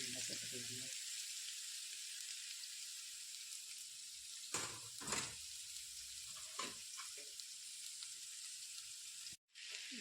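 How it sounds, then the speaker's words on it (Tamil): Mango, drumstick and garlic fry in a pan with mustard seeds, giving a steady, close sizzling hiss, with occasional stirring clatters and faint background voices. "நல்லா போட்டுக்கலாங்க வறுத்துக்கலாங்க"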